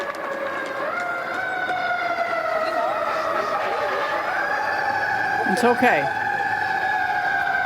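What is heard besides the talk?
emergency vehicle sirens blaring along Interstate 280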